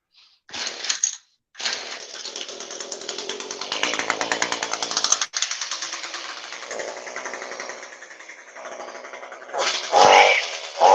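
A hedge trimmer with freshly sharpened blades runs with a loud, steady, rasping motor buzz and chattering blades, cutting out briefly near the start and surging louder again at the end.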